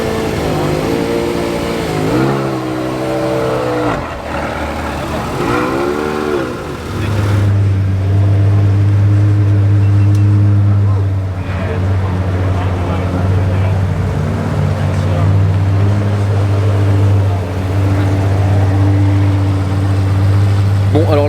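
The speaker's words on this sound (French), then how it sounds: "Et ici qui démarre, une Gembala Mirage GT." A Gemballa Mirage GT supercar fires up at the Nürburgring: after a loud, continuous background with voices, a deep engine settles into a steady low rumble and rises in revs, all close and strong.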